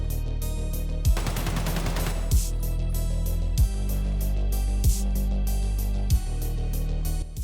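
AK rifle fire in Escape from Tarkov: a dense close burst of rapid shots, then single loud cracks spaced about a second apart, with a steady low background hum throughout.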